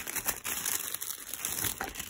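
Tissue paper crinkling as a small Otrera beauty package is unwrapped, a close, continuous crisp rustle with bright crackles lasting about two seconds, no voices.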